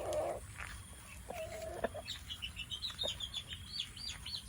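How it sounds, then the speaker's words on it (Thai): Laying hens cluck and chirp in short, repeated bursts at moderate distance on a mixed farm, with a soft outdoor background. "เป็นไก่ไข่สวยงามนะครับ"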